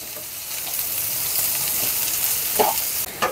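Green chillies and ginger paste with salt fry in hot oil, making a steady close sizzle broken by a couple of spatula scrapes near the end.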